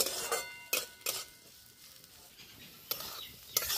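Chopped onion and green chili frying in hot oil after a nigella-seed tempering, a soft steady sizzle broken by a few sharp utensil scrapes and clinks in the pan.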